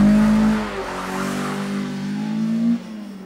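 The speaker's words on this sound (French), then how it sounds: "On reconnaît le son typique d'un moteur sans turbo" A naturally aspirated car engine without a turbo revs hard with a rising, throaty tone, steady and close, then the pitch climbs sharply before dropping off near the end.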